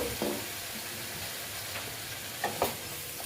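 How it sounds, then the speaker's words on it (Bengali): Kashmiri red chilli powder fries in a pan with a splash of water for a spicy boal fish curry, giving a steady soft sizzle broken by a few stirring scrapes, with no one talking. "এখন আমি একটু জল অ্যাড করব হ্যাঁ একটু লঙ্কা মশলাটা ভাজার জন্য"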